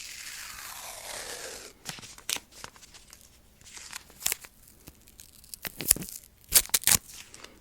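Strips of tape are peeled and torn with crinkly rips and scrapes, quiet and close in a hushed, intimate setting, with the louder tears near the end.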